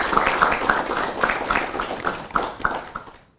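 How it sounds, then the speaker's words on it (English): A live studio audience at a televised debate on Nigeria's democracy applauds: steady rhythmic clapping for about three seconds, fairly loud and close, tapering off at the end. "A round of applause for yourself."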